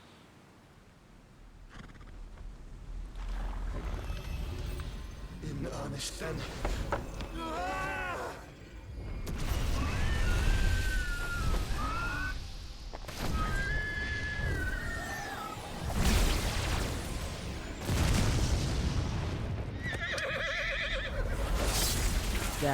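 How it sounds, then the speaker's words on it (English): Odin's horse in the video game Final Fantasy XVI lets out several loud, shrill whinnies amid dramatic game sounds and rumbling effects, with a character's brief line and a player's voice heard around them. "Oh, is he bringing out Odin? Oh shit! Odin. He even has a horse."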